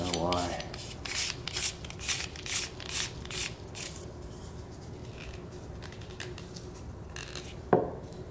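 Metal parts of an AAC Tirant 9 suppressor being screwed together by hand: a run of short, close scraping, grinding rubs in a steady rhythm, then quieter, with a sharp metallic click near the end.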